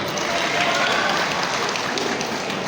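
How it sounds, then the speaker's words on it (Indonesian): A crowd at an Indonesian hajj association gathering in North Sulawesi applauds steadily, dense clapping sustained and fairly loud throughout, with a faint voice underneath. "Terima kasih tepuk tangannya,"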